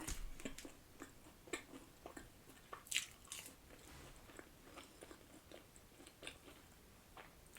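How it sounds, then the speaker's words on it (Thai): Someone eating pizza while sitting in a car: soft, close bites and chewing with occasional faint crunches, quiet and intimate with no talking. "นั่งกินพิซซ่าในรถเจ้าคนติดตามสองหลานสามหลาน ASMR นะ"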